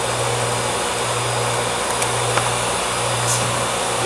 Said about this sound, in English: It also comes with the vacuum for your milling collection.